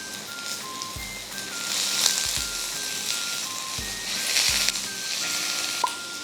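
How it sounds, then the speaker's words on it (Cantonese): Tofu frying in an iron wok gives a soft, steady sizzle, with a few low clanks of a utensil against the metal at intervals. "大家睇下佢煎到啲豆腐金黃色"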